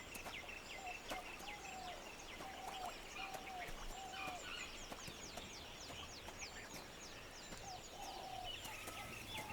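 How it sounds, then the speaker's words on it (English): Peacocks calling in alarm at a leopard in Yala's dry forest, repeated loud honking cries at a moderate distance over a steady insect-like hiss. "The local flock of peacocks is on edge too."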